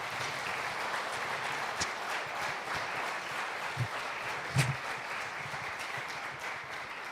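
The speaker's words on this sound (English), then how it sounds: "I would request you to give another round of applause." Sustained applause from a large lecture audience, steady and fairly faint, with a few louder claps standing out over the continuous patter.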